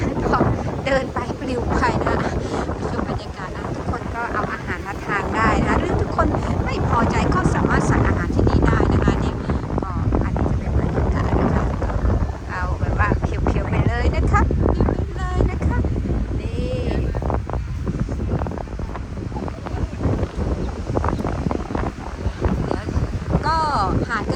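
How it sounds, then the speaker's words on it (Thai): Strong sea wind at Chao Samran beach blasts the microphone in a continuous loud roar and buffeting for the whole stretch, while someone talks over it. "ทะเลขึ้นลมแรงมากค่ะ ก็เนี่ย แอดจะปลิวเลยนะคะ"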